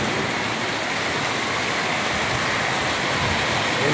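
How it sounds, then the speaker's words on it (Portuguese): Steady, dense rainfall in Itumbiara, Goiás, on an evening downpour, a continuous loud hiss of drops with no break or voices across the whole stretch. "Chuva caindo. Abençoada a chuva."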